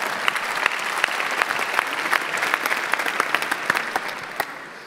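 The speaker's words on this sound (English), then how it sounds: "A round of applause." An audience at a live Get in the Ring event in the Netherlands breaks into applause, a steady wash of many hands clapping that carries on for several seconds, then starts to thin at the end.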